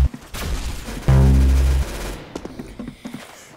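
Video game P90 gunfire in a rapid burst, with a loud sustained fusillade in the middle and scattered sharp shots and booms around it, near and prominent.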